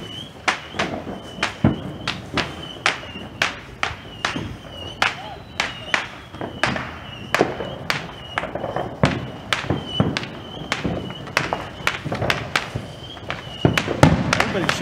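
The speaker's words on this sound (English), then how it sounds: "just sit out here and enjoy other people's fireworks too" Sharp Independence Day firework bangs pop in a rapid, irregular series, some close and loud, others farther off, continuing throughout with faint background voices.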